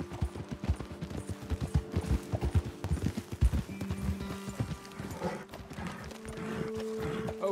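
Horses' hooves clip-clopping in a Red Dead Redemption 2 game scene, a close, uneven run of hoofbeats that slows and fades, leaving a low background hum.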